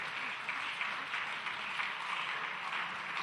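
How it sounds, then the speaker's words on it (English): A fairly distant audience keeps up sustained, even applause at a geoinformation society event while a mentor is called to the stage, the clapping soft and continuous without pauses. "Please keep clapping till she gets here."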